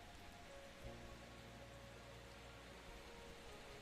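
Steady rain pours outside an old library, a dense, even hiss of drops falling without pause throughout, with no voices.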